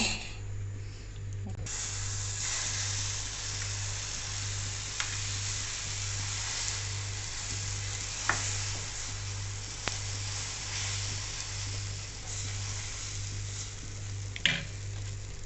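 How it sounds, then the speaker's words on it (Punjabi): Oil or ghee sizzling steadily on a hot tawa griddle, a continuous close hiss with occasional small pops and clicks, heard alone with a low steady hum beneath. "ਤਵਾ ਆਪਣਾ ਗਰਮ ਹੋ ਗਿਆ ਸਭ ਤੋਂ ਪਹਿਲਾਂ ਆਪਾਂ ਲਾਵਾਂਗੇ ਇਹਦੇ ਉੱਤੇ ਤੇਲ ਘਿਓ"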